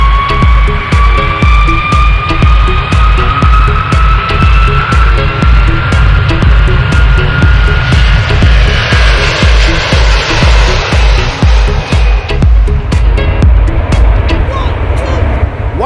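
An aircraft engine roars steadily and loudly through a takeoff run, its whine rising in pitch over about sixteen seconds, with a fast rhythmic pulsing beneath the drone.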